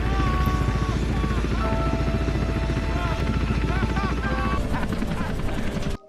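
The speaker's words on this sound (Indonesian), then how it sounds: "helikopter yang berpatroli pun datang dari arah yang berlawanan dan langsung menjemput Dengler" A patrol helicopter in the 2006 film Rescue Dawn arrives with a loud, steady rotor thrum and engine whine that holds strong throughout before cutting off abruptly at the end.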